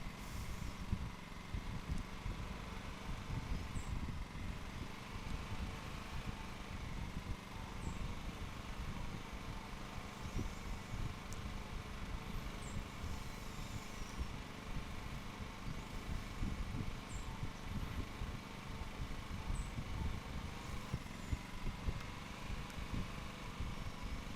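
Steady mid-pitched engine drone of a riding lawn mower throttled up in the Lawn Mowing Simulator video game, running continuously at an even, fairly loud level with a faint high whine above it and no talk.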